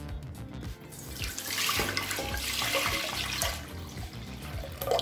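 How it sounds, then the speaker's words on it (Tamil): About five cups of water are poured into a pot of rice and toor dal for sambar rice, giving a close, continuous splashing gush with uneven surges and no talking. "இப்போ 5 கப் தண்ணி சேர்த்துக்கலாங்க"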